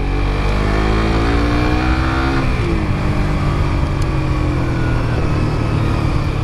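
Engine of a new Yamaha motorcycle, successor to the Byson, roaring steadily up close on a test ride, with pitch climbing under throttle, dipping briefly at a gear change, then pulling on with constant wind and road rumble.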